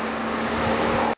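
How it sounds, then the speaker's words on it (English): A Jaguar F-Type R coupé with its 5-litre, 542 bhp V8 drives by. The engine gives a steady, full drone close up, then cuts off abruptly at the end. "the car we're driving today is that murderous V8"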